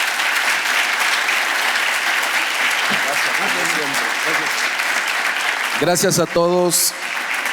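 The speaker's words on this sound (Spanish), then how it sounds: "Un aplauso y el agradecimiento." Steady audience applause follows a talk, a broad wash of crowd clapping that holds at a strong level throughout, while a voice briefly speaks over it near the end.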